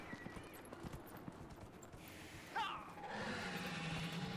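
Horse hooves clip-clopping in the fantasy video game Dragon Age: Inquisition, a quiet steady walking rhythm, joined near the end by a brighter swelling game sound.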